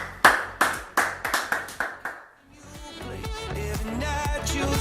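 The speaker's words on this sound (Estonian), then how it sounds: "Aplaus." A small audience at an Estonian health event prize draw gives a few sharp, separate claps, about eight in quick succession, before music rises and carries on.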